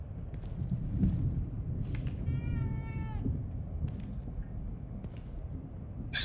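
A cat in the horror video game The Evil Within 2 meows a few times, with one clear, drawn-out call standing out over a low, murky ambient drone; no one speaks.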